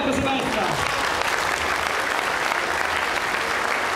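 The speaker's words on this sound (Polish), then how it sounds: "Brawa, brawa, proszę Państwa!" Dense, steady applause from a campaign rally audience in Płock, loud and continuous throughout, with no voice rising above it.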